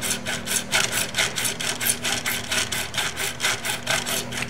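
A file rasps back and forth across a guitar fret during a re-crowning job, in steady rhythmic strokes of about four per second, close and fairly loud, with a faint low hum underneath.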